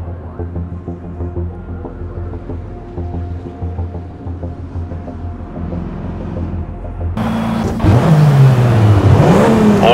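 BMW 135i engine in the racing game NFS Shift, a steady loud engine drone that rises and revs harder near the end, climbing and falling in pitch with no talk.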